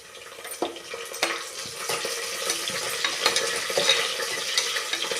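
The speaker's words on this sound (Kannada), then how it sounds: "ಈರುಳ್ಳಿ ಫ್ರೈ ಮಾಡಕತ್ತಿದ್ನಲ್ಲ ಆ ಈರುಳ್ಳಿ ಒಳಗೆ ಹಾಕ್ಕೊಂಡಿದ್ದೀನಿ" Onions frying in a pan for vegetable pulao, a soft steady sizzle broken by repeated scraping stirs of a spoon, close and fairly quiet with no voices.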